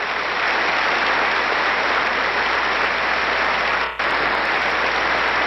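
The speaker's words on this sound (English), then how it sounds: "Everybody's applauding everybody." Sustained, dense applause from a large audience greeting a president and his family, loud and continuous throughout with a brief dip near the end.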